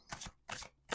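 Two quick riffles of playing cards being shuffled close up, a soft crisp fluttering burst each time, then the start of a third.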